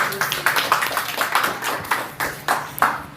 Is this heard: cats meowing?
no